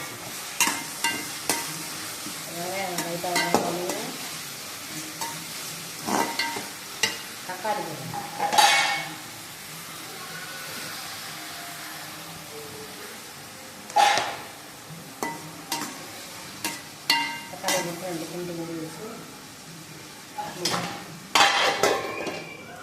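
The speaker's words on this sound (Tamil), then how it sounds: "வெங்காயம் வதங்கிக்கிட்டு இன்னும் கொஞ்சம் வதங்கணும்" Onions sautéing in a pan for crab gravy, with a steady soft sizzle under repeated scraping stirs and occasional sharp metallic clinks of the spoon against the pan, close by and without talk.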